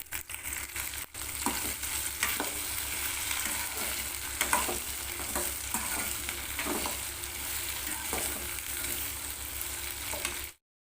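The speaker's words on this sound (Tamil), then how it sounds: "இப்போ வந்து எண்ணெய் நல்லா காஞ்சிருச்சு இதில் பொறிச்சிக்கலாம் நல்லா ஃப்ரையாக பொறிச்சு எடுத்துக்கலாம்" Okra fries in hot oil with a dense, continuous sizzle, broken by repeated scraping stirs at an irregular pace; the sound cuts off abruptly near the end.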